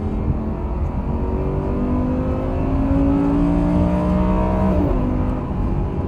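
An Audi R8 engine revs hard at the limit, its pitch climbing steadily before gears are slammed in with a sharp drop and change in tone near the end. The loud, continuous roar plays alone with no voices.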